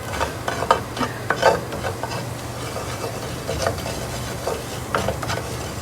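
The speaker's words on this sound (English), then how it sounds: "Now we're gonna mix that maida into the butter." Maida flour is stirred into melted butter in a pan, giving a continuous soft sizzle with repeated scraping and tapping from a spoon working the mixture, close by and without talk.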